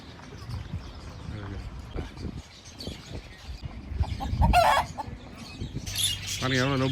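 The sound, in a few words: birds kept at a farmhouse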